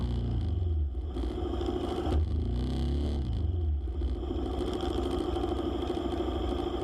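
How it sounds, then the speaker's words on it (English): An older diesel engine idles steadily and close by, a continuous low rumble with a slight rough, rattling texture and no talk over it. "diesel engine, not a gasoline engine, and diesel engines, particularly the older ones, tend to belch out smoke"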